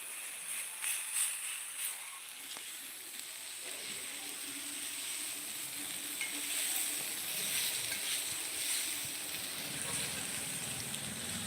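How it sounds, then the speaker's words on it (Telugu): Small chicken pieces for samosa fry on a flat dosa pan, a continuous close sizzle and hiss that builds slightly and holds steady, with light stirring scrapes early on. "ఇప్పుడు దోస పెనం పైనే ఈ విధంగా ఫ్రై చేసుకోవాలి"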